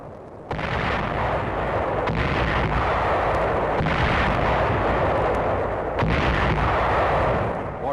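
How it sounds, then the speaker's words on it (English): Heavy mortar, tank and artillery fire pounds cave and ridge emplacements on Okinawa in 1945, a dense, continuous barrage of booming blasts with sharper reports cutting through at irregular intervals. "emplacements in hillside caves and ridges are pounded by heavy mortar, tank, and artillery fire"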